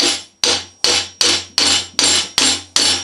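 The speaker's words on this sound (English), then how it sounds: "I'm going to give it a few taps with a hammer" Eight sharp metallic hammer strikes on a brake caliper of an NC Mazda MX-5 Miata during a disc and pad replacement, evenly spaced about every half second, each ringing briefly before the next, loud and close.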